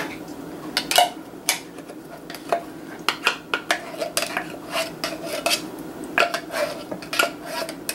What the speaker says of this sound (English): I'm going to add 2 cans of a good flavored name brand pork and beans.